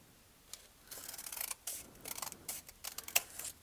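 Scissors snip through folded paper for a weaving project in a quiet room, a run of short crisp cuts at irregular intervals, close and fairly soft, with no talking.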